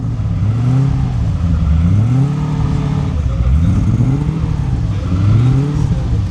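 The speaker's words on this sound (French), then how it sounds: "je vous fais écouter le son moteur du V8" A V8 supercar engine revs up and down over and over in rising and falling sweeps, loud, steady and close, with no speech over it.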